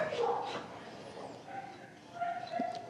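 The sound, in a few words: older shepherd mix dog barking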